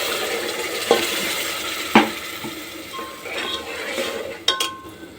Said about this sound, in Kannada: ನೋಡಿ ಫ್ರೆಂಡ್ಸ್, ಒಗ್ಗರಣೆ ಮಾಡ್ಕೊಂಡಿದ್ದೀನಿ.